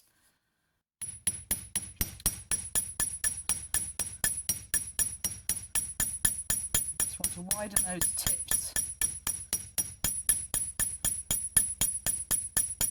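A small hammer beats the tips of a copper Viking penannular brooch in a fast, even series of sharp metallic strikes, close and steady throughout, while a voice speaks briefly partway through.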